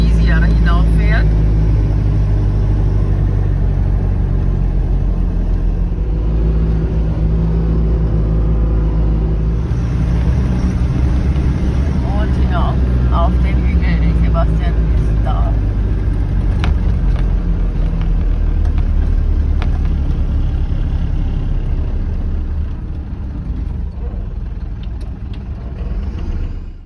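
Off-road vehicles climb sand dunes in the Hisma desert of Saudi Arabia, following a lighter vehicle, with a steady close engine drone throughout and people talking over it.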